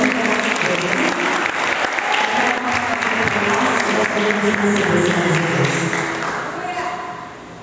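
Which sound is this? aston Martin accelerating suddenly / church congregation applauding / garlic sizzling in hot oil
church congregation applauding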